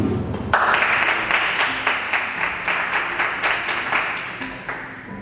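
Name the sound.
wedding guests applauding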